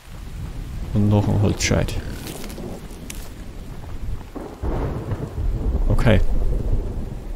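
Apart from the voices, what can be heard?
rain and thunder in The Infected video game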